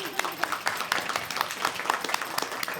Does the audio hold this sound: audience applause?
yes